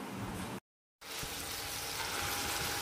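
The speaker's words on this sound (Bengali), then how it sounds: "কড়াতে দিয়ে দিলাম টমেটো, পেঁয়াজ ডুমো ডুমো করে কেটে, রসুন আর কাঁচা লঙ্কা, আর সাদা তেলে করবে অবশ্যই" Diced tomato, onion, garlic and green chilli frying in white oil in a wok, a steady broadband sizzle that cuts out briefly and returns strong and continuous, close and with no talk.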